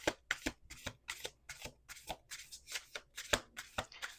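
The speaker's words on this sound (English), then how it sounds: "2 more shuffles." Playing cards are riffle-shuffled over and over, a quick series of crisp, close fluttering bursts with short pauses between them.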